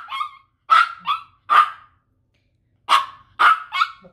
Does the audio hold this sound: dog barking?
yes